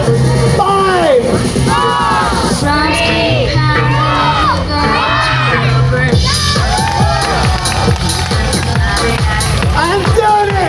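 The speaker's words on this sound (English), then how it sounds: "You really like cheering, don't you?" A large outdoor crowd at an evening light-festival street show in Singapore cheers and shouts, with children's voices and whoops rising over continuous loud crowd babble throughout.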